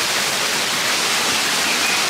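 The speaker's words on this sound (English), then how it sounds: "The rain picked up again, so I'm hiding under some trees." Steady rain falls on a wooded hiking trail near a small waterfall, a dense, even hiss filling the whole moment without pause or variation, heard from shelter under trees with no voices.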